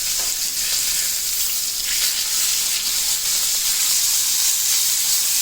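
Steak and garlic frying in a pan, a steady loud sizzle and hiss with faint crackles running continuously, close and alone without talk.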